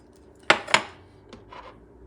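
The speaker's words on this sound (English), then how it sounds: "And I mix it up together." A spoon mixes garlic powder and turmeric together in a small dish, giving two sharp, close clinks followed by a few softer taps and scrapes, with no talk.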